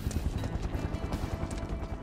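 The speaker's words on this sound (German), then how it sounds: "Ich höre Helikopter." A helicopter in the video game Final Fantasy 7 Remake makes a rapid, rhythmic low thudding of rotor beats, steady and moderately loud over a dense background rumble.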